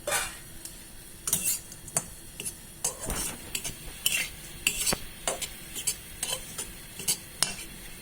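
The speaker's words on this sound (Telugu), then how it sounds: "ఈ డ్రై ఫ్రూట్స్ని పౌడర్ చేసుకున్నప్పుడు వీటిని కూడా నేను వేపుతున్నాను." Powdered dry fruits stirred and roasted in a pan, with a spoon scraping and clinking against the metal in irregular strokes over a soft background sizzle.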